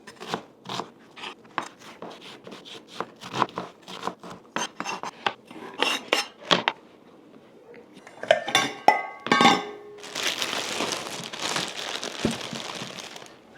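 A knife roughly chopping onion on a board for beef stew, sharp irregular knocks and crunches in quick bursts, close by, followed by a denser stretch of scraping and rustling.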